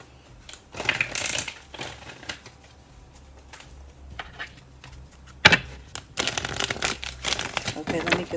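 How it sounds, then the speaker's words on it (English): Bursts of riffling and shuffling of tarot cards come in irregular bursts up close, with quieter pauses between them and some soft handling noise. "let me get a good shuffle in"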